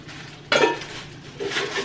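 A small metal cooking pot from an unboxing being handled, giving one sharp clattering knock followed a second later by a softer scrape and clink, close by in a quiet room.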